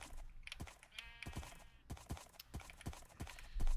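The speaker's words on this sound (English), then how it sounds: "And here's the horse stable." Horses shift about in a stable in a video game, giving a steady series of soft, evenly spaced hoof clops with faint snorting and bleating sounds mixed in.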